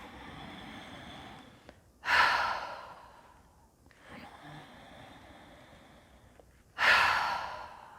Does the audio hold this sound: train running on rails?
no